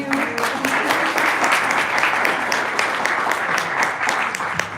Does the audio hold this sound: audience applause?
yes